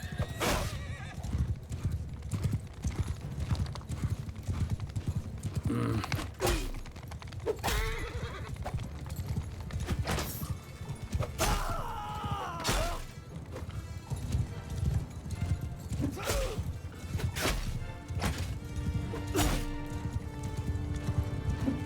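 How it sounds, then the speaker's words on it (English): Horse hooves clopping in a fast rhythm amid neighs and whinnies in the video game Mount & Blade II: Bannerlord, with scattered crashes and clatter layered over a continuous low rumble. "I hear a horse to my left"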